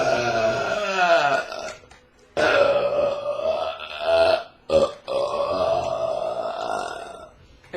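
A man lets out several long, loud belches in quick succession, close to the microphone, separated by short pauses, with no talk between them.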